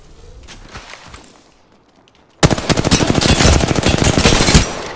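Apex Legends firefight: after a quiet stretch of faint movement, a loud, rapid burst of automatic gunfire breaks out and hammers on without let-up, dense and close.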